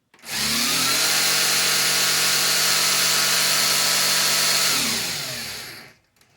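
An MJX Hyper Go RC car's electric motor runs at 75% throttle, a loud, steady high-pitched whine that holds for about five seconds and then winds down, with no talk.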